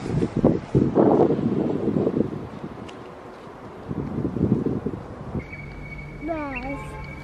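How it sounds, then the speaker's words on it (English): Gusty wind buffets the microphone in rumbling bursts in Amman, Jordan, with a short whistling tone near the end. "It's windy."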